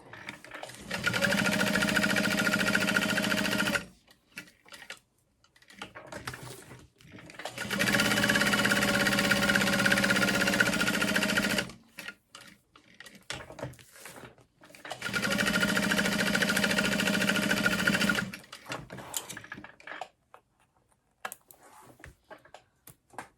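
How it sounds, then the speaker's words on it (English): A sewing machine basts a U-shaped seam on a large handbag with a D-ring, running in three steady bursts of several seconds each, separated by quiet pauses with light handling noise. "I'm just gonna baste around in a U shape."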